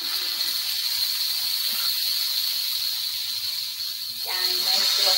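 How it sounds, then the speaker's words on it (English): Toast sizzling on a flat griddle in a foodservice kitchen demo, a soft steady hiss running throughout, with a brief clatter near the end. "Again, nice little sizzle."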